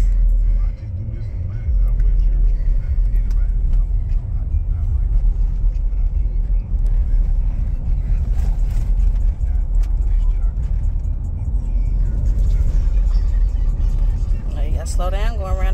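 Low, steady engine rumble comes from inside a car while a 14-year-old driver presses the gas, with a parent talking throughout and road noise humming under the voices.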